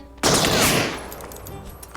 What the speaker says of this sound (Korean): 총소리 내봐